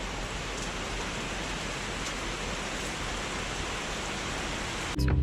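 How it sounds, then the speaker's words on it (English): Rain falls in a steady, even hiss throughout, a constant wash of sound ending with a sudden louder knock. "got a little bit of rain going on."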